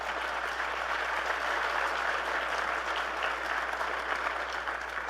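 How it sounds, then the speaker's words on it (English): An audience at a plenary session of a youth leadership gathering claps steadily, a dense even wash of applause that carries through the whole stretch with no break. "let's give everybody here a round of applause"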